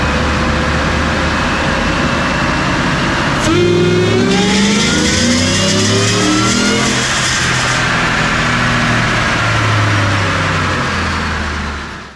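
A 2018 Shelby F-150 with an Oz tune makes a dyno pull: after a steady idle, the engine revs sharply and climbs in pitch for a few seconds, then drops back to a rumbling idle, loud and close.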